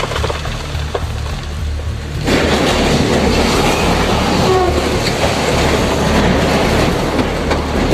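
A cargo-only freight train rolls along the tracks with a loud, steady clatter and rumble that swells abruptly after a quieter start, just before it derails.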